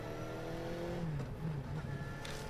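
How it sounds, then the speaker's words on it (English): Motorcycle engine idling in neutral and revving in the video game Spirit Hunter: NG, a continuous close hum with a brief rise and fall in pitch partway through, heard alone without speech. "He's in neutral, though, so he's just kind of letting the engine rev."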